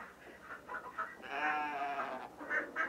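Short, nasal animal calls from a video game farm, several quick clucks and cries, fairly faint, with a longer drawn-out call in the middle.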